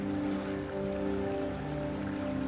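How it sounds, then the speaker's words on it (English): Creek water flows steadily along an icy winter hiking trail among hemlocks and rhododendron, a soft continuous rushing close by with no voices, heading toward Hawk Falls. "The nice tranquil sounds of the creek."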